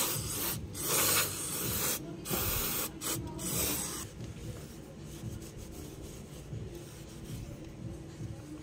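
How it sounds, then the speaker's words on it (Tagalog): Brake cleaner sprayed from an aerosol can onto a motorcycle's disc brake plate: several short, loud hissing bursts in the first four seconds, then quieter rubbing and handling noises. "bugahan natin to mga boss ng ating brake cleaner"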